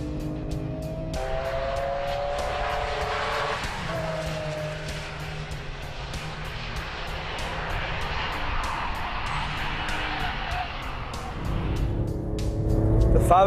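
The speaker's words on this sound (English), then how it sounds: "The motor picks up the revs consistently and smoothly." A Porsche 911 GT3 with its rear-mounted engine climbs smoothly through the revs on a race circuit, a loud continuous engine note rising and dipping in pitch with gear changes, clicks and a closing swell.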